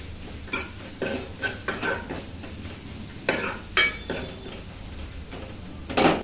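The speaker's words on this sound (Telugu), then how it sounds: "మొత్తం అంతా ఇలా ఒకసారి కలుపుకొని 2 నిమిషాలు వేయించాలి" Kattu (chana dal broth) with chili powder and salt stirred and fried in a pan, a spoon scraping and clanking against the metal in repeated strokes over a steady low sizzle, close and fairly loud, with no talking.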